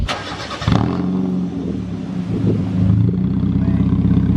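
A Mazda Miata engine with its muffler cut off bursts to life and revs hard with a raw, loud, unmuffled roar that settles into a rough, throbbing idle.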